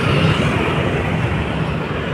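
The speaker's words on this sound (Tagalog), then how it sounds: "may dumaan na tren kaya maingay" A train passes near the Pasig River esplanade in Manila, between Phase 1A and MacArthur Bridge, making a loud, steady rumble with a continuous broadband roar and no voices over it.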